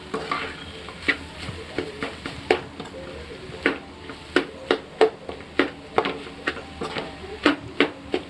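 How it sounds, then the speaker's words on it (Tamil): A spoon stirs and tosses a snack mixture as cumin and pepper powder are folded in. It makes a steady series of light, close scraping clicks at a quick, even rhythm, with no talk over it. "எல்லாத்தையும் சேர்த்துட்டு நல்லா மிக்ஸ் பண்ணிக்கலாம்"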